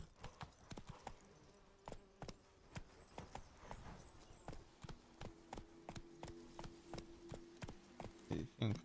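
Hooves of Roach, the horse in The Witcher 3, clopping in a steady galloping rhythm at close range, distinct sharp hoof strikes repeating evenly, no voices.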